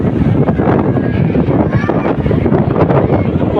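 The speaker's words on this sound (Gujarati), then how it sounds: "પવન બહુ જાજો છે અત્યારે" Strong seaside wind at Dumas Sea Face roars steadily into the microphone as a dense, continuous buffeting rush. Faint voices may sit beneath the noise.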